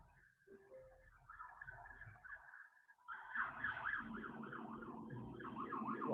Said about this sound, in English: hang on, there's an ambulance.